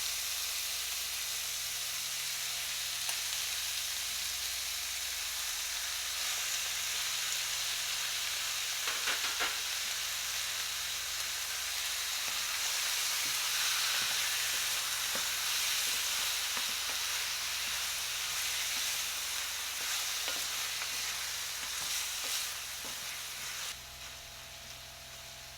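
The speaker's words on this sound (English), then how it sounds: "pan and let it steam down for a bit." Food sizzling and steaming in a pan during meal prep, a continuous soft hiss and crackle with occasional stirring scrapes, fairly quiet and steady, dropping a little near the end.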